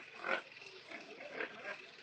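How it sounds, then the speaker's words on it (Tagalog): Pigs and piglets on a farm in Zambales grunt and squeal close by, with a few louder bursts among softer snuffling. "Baboy, ito baboy na, pre."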